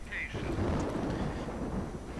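Rain and thunder from a wartime strategy video game, a dense steady hiss of pouring rain over a low rumbling roll of thunder, filling the whole short stretch with no voices.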